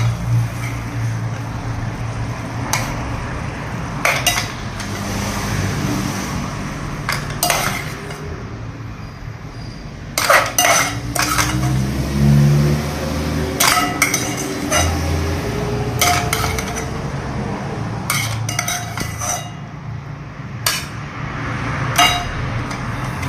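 Food scraped and poured from a pan onto a plate after cooking, sharp metallic clinks and scrapes of utensils against cookware repeating irregularly, close and loud with no talking.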